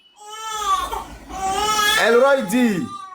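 A baby cries with rising and falling wails, close and loud, while being bathed at home; no adult speech is heard over it.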